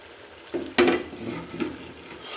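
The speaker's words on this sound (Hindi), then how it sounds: "ये देखिए माशाल्लाह कितना प्यारा मसाला भुन गया" Masala sizzling and frying in oil in a home kitchen pan, stirred with a spoon: a sharp scrape-and-sizzle burst, then steady crackling frying with a second softer stir, close and clear, no talking.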